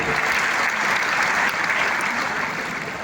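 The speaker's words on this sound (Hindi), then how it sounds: "एक बार जोरदार ताली बजा दो" An audience at an annual school function at a gurukul loudly applauds, producing a thick, continuous wash of clapping that fades slightly toward the end.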